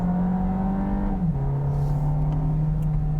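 The 1.5-litre turbocharged engine of a 2022 Volkswagen Jetta hums steadily under acceleration, heard from inside the cabin, with its pitch dipping briefly as the eight-speed automatic shifts.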